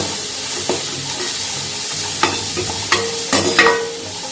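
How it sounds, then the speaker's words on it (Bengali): Ingredients for navratan pulao fry in a pan with a steady, close sizzle, while a spoon scrapes and clicks against the pan now and then. "সামান্য একটু ভাজবো, বেশি ভাজবো না।"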